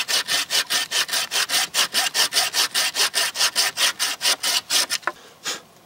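A hand saw cuts through a small hardwood branch just over an inch thick, about twenty steady, evenly spaced rasping strokes in close succession that end with a couple of slower final pulls.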